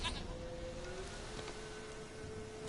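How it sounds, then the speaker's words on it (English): A goat bleats from the Witcher 3 game world, a faint, thin call over steady ambient background hiss with a low sustained tone running underneath, no voices present. "Here, goat."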